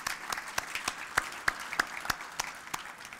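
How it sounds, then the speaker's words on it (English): Hands clap in a steady, evenly spaced rhythm, a dozen or so sharp claps, fairly close with a light murmur of a crowd behind. "A round of applause"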